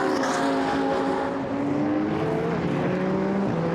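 GT race cars at the Zandvoort circuit in a Blancpain Sprint Series race: sustained loud, high-revving engine notes from several cars overlap, rising and falling in pitch as they pass.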